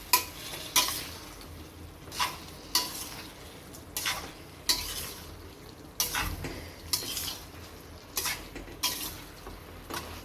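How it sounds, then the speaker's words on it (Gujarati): Gujarati vegetable patra rolls are stirred slowly in a pan, each spatula pass making a distinct scraping swish in a steady rhythm of about one stroke per second, close and clear. "પાત્રાઓ નાખી દઈશું અંદર. ધીરે ધીરે કરીને હલાવી લઈશું."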